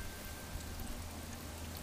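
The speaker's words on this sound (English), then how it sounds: "Can you see the water coming out of the gutter?" Rainwater trickles steadily out of a gutter on a solar setup, a faint, even wash of running water with no distinct splashes, continuous throughout.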